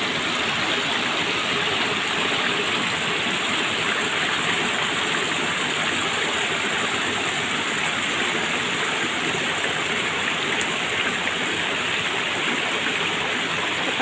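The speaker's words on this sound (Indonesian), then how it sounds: "ada aliran air, dimana airnya langsung dari Gunung Sawal" Clear water of a mountain stream fed straight from Gunung Sawal, at a forest-edge village in the rainy season, rushes in a steady, loud, continuous wash that stays unbroken throughout, with no voices.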